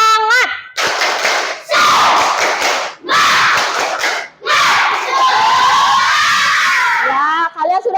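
Schoolchildren in an Indonesian classroom perform a rhythmic clapping chant, loud bursts of group clapping and shouted voices in several phrases separated by short pauses, close and energetic, with an adult voice at the start and end.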